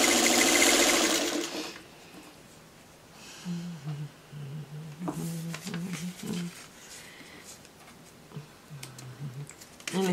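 Sewing machine stitching a seam on a paper-pieced Friendship Star quilt block, short bursts of fast rhythmic whirring stitches, close, with pauses between runs.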